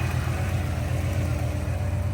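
A turbocharged Ford with a stock bottom end, GT40 upper and lower intake, Cobra cam and home-built turbo kit idles steadily through a Borla ProXS straight-through exhaust, a loud, continuous deep rumble with no voices.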